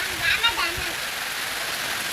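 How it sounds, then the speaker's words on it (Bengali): Heavy, prolonged rain pouring steadily during a stormy spell with wind, a dense close hiss filling the whole stretch, with a few brief sounds early on. "আবহাওয়া দেখেন এত বৃষ্টি হয়েছে"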